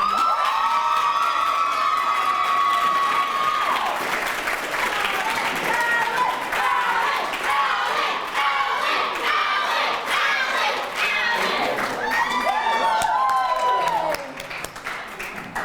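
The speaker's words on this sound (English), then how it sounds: "another round of applause for all of our winners today" Crowd at a slam poetry award ceremony clapping, cheering and whooping for the winners, loud and continuous, with shouting voices over the applause before it thins near the end.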